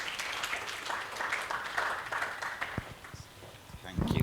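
An academic meeting audience claps to receive a professor at a BU-LABNET annual gathering, a moderate spread of hand claps that thins toward the end as a voice comes in.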